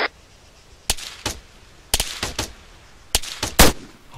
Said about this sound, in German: Das eine MG wird beschossen.